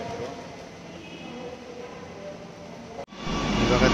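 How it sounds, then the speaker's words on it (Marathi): A metro train pulls away from a station platform, its steady rumble and rail noise continuous, then swelling suddenly louder and closer near the end. "बघा तिकडे गेली मेट्रो"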